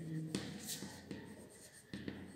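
A pen or pencil writing out a perimeter calculation for an equilateral triangle, with faint close scratching strokes and brief taps on paper, quiet, under a soft voice explaining.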